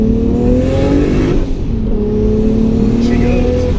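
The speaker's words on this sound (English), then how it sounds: "you just give it a little bit of gas" A Nissan Skyline R32 GTR engine pulls steadily in second gear at light throttle around 3,000 RPM, a loud, close, continuous drone with rising harmonics over a few seconds, with some voice partly beneath it.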